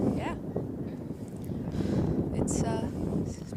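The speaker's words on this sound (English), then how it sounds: "It's pretty windy out." Gusty wind at an outdoor football game roars and buffets the microphone in a steady, heavy rumble, while commentators talk over it.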